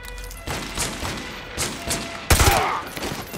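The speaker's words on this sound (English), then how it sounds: "Take the shot! Go for his leg!" Gunfire in Call of Duty: Modern Warfare 2 Campaign Remastered, a loud sharp shot near the end that rings out over a steady, dense background of distant battle noise and thuds.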